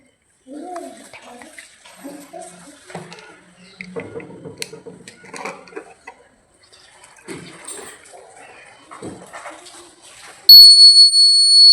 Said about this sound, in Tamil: இந்த இடத்துல பஜார் வந்து சத்தம் போகும்